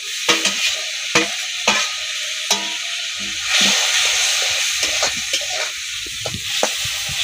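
Loud sizzling and hissing from a hot pan of fried dried fish, with a surge of steamy hiss midway as water is added and sharp clinks of stirring scattered throughout.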